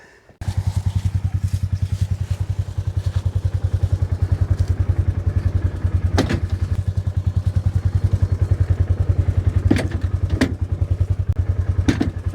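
A skid steer post pounder drives fence posts, its engine chugging in a steady, fast rhythmic idle up close, with a few sharp metallic impacts landing at intervals over the running engine.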